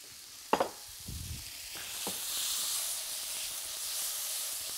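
Tomatoes frying in a pan with thyme and garlic: a brief clatter and thump, then a rising steady hiss of sizzling that holds to the end.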